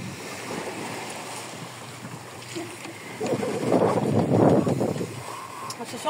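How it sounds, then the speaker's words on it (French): Waves wash and surge against a sailboat during a rough channel crossing from Martinique to Dominica, with wind noise and a swell building midway; voices are heard at moments. "Ouh, des belles vagues."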